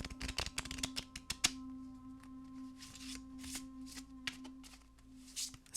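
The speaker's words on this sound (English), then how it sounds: "please, shuffle the deck, Calhordis" Rapid riffling of a card deck, a quick burst of flutters followed by softer shuffling and taps, close and fairly quiet.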